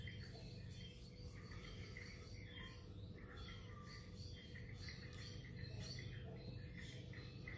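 A native bird perched near a backyard fence gives faint, scattered squawks and chirps. They sit over a steady outdoor bed of insect or cricket noise and low rumble, with no talking.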